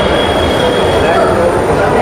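Amrit Bharat Express from Nagercoil to Mangaluru Junction on its inaugural journey, a loud steady rumble of the moving train with faint high whine, heard from on board or close by.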